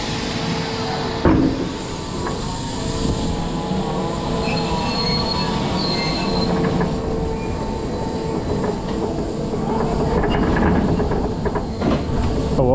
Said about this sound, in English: Oh, already rattling around only on the lift hill.